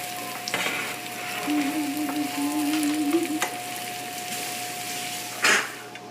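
Button mushrooms drop into a hot pan and sizzle steadily at low volume, with a short clatter at the start, a faint tonal whine running through, and a brief clank of pans near the end.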